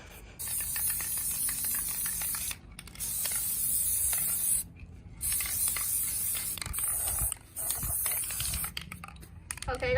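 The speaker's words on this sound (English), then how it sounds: "You want a little spray paint?" Loud, close hissing bursts from a spray can, four long sprays separated by short pauses, with small clicks and rattles between.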